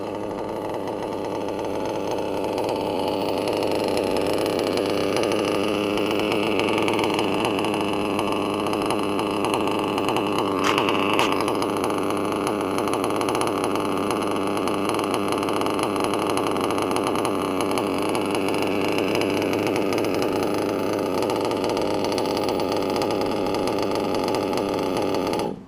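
A modified Picco Boost .28 nitro engine idles on the ground, a steady buzzing drone held at an even level throughout with a slightly rough, uneven tone.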